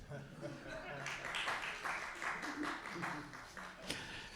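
Audience applause at a book talk and signing, a steady wash of clapping lasting several seconds with some voices mixed in underneath.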